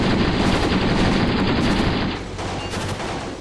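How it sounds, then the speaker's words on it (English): A back gunner firing a machine gun in a war video game set at the Battle of Cuito Cuanavale: loud rapid sustained bursts with rumble, easing slightly in the final second. "You can even see the back gunner firing here."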